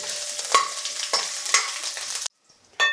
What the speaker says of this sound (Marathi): आता या छान आपल्याला गुलाबी रंगावर परतून घ्यायच्या आहे